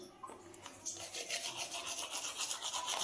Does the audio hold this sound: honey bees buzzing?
no